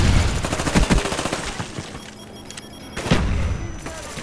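A grenade blast and automatic gunfire in Call of Duty: Black Ops: a burst of rapid shots fades into a quieter stretch, then a heavy thumping explosion lands near the end, all loud and close.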